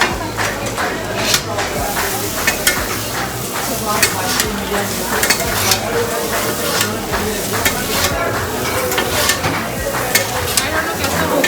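Noodles being stirred and mixed in a sizzling pan at a Kolkata buffet's live counter, with steady scraping and frying crackle throughout, close and fairly loud, while people talk in the background.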